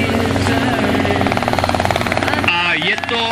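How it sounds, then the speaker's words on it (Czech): A Robin helicopter landing at an ultralight aircraft fly-in at Nymburk, loud and close, with rapid rhythmic rotor chopping over an engine drone, while someone talks over it. "No a vidíte, že teď tady zrovna přistává vrtulník."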